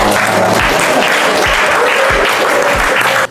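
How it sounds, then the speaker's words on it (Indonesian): Loud, dense applause from a classroom audience at the close of a teaching demonstration session, steady clapping filling the space for about three seconds before cutting off abruptly. "Tepuk tangan untuk kalian semua."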